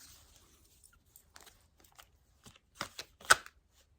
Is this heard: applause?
no